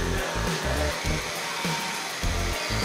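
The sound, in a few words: Oral-B Genius 9000 electric toothbrush brushing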